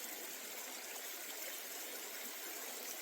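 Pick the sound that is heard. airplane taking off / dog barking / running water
running water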